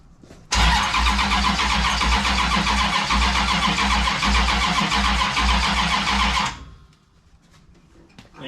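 A 1971 Plymouth Duster big-block V8 cranks over with freshly set ignition timing, a loud, rhythmic starter churn lasting about six seconds that stops without the engine catching, followed by quiet.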